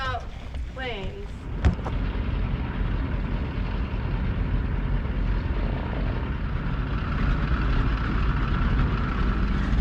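A floatplane arrives at Port Protection, Alaska, its engine a steady, moderately loud broadband drone that holds for the whole stretch, with people talking over it.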